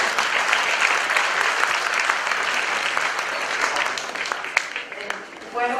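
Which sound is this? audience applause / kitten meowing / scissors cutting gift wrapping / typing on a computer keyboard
audience applause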